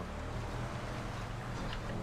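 Steady rushing roar of a waterfall in the GTA 5 video game, a dense continuous wash of water noise at even loudness with no talking.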